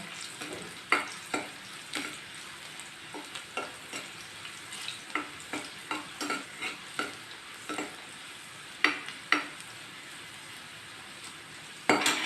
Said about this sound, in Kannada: ಸ್ವಲ್ಪ ಕೆಂಪಗಾಗಬೇಕು ಬೆಳ್ಳುಳ್ಳಿ ಅವಾಗ ತಿನ್ನೋದು ಚೆನ್ನಾಗಿರುತ್ತೆ